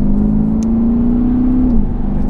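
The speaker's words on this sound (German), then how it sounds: "Also ich bin selten von dem Getriebe beim Diesel so überzeugt wie jetzt gerade." Interior of a Mercedes W213 E350d diesel estate with active sound accelerating: a loud, steady engine drone rises smoothly in pitch for nearly two seconds, then drops briefly as the transmission shifts, with continuous road rumble beneath.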